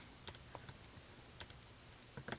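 Typing on a computer keyboard into a product search field, heard as a few scattered quiet keystroke clicks in small clusters with pauses between them, alone and without talk.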